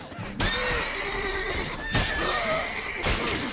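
A horse in The Witcher 3 video game lets out loud, close whinnies, three bright neighs spaced across the moment with faint hoof clatter between them, alone without talk.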